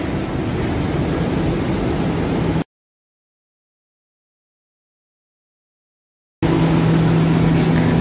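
A car manoeuvring to park in a mall basement: a steady broadband engine and tyre rumble that cuts out abruptly to silence for several seconds, then returns at the same level.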